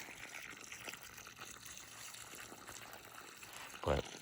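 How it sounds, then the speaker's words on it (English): Irrigation water runs steadily into a Kentucky garden row, a continuous soft gushing and trickling close by with a brief louder splash near the end. "And just let that water seep in."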